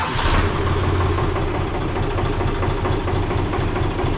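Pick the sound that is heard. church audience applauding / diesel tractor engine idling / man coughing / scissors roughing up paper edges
diesel tractor engine idling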